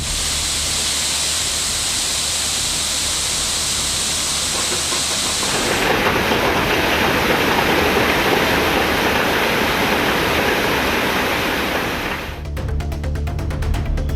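Water rushes out of opened dam sluice gates in a loud, continuous roar, steady and broadband, with no voices.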